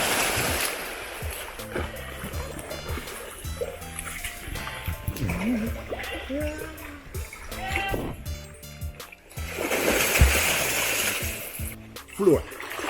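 A man swimming in a tropical river in Jamaica, with ongoing watery splashes and sloshing close by, mixed with outdoor background noise and occasional voices.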